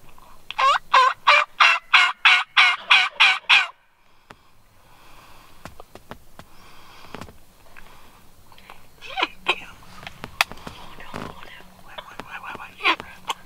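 Wild turkey gobblers gobble in a rapid rattling run of about nine loud pulses, followed by quieter rustling, sniffing and hushed whispering in the field during a turkey hunt.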